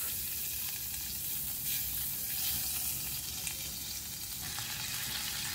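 Butter melting in a saucepan for béchamel sauce gives a steady, soft sizzle and crackle throughout, close and moderately quiet, with no voices.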